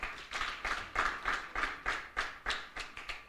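A panel audience at an agricultural youth-participation session claps in about ten distinct, evenly spaced bursts, each a sharp, moderately loud attack that fades quickly, giving a steady rhythmic pattern with no voices over it.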